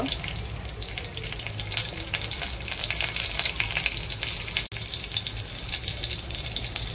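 Mustard seeds and asafoetida sizzle steadily in hot oil, a dense, even crackle and hiss lasting several seconds with a brief dropout midway, no talking.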